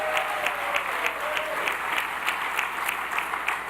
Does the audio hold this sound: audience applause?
yes